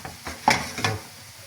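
Potato rösti frying in a pan, with a few soft scraping stirs and brief sizzling bursts over a low background crackle, close and fairly quiet.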